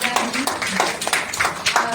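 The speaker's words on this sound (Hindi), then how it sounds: "एक बार तालियों की झनकार" An audience claps at a Hindi book launch and honoring ceremony, with a loose scatter of individual claps close by and a voice audible amid the clapping.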